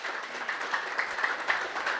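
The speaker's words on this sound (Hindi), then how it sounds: "ताली" Audience clapping at a Brahma Kumaris spiritual class, a steady moderate patter of many hands with a few sharper claps standing out, heard at a distance with no talk over it.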